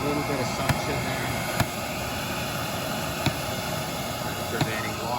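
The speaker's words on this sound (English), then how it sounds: "Camvac is running with 1 motor." Steady broadband roar of a Camvac 90L dust extractor running on one motor, with faint periodic clicks over the constant whoosh and a low hum beneath.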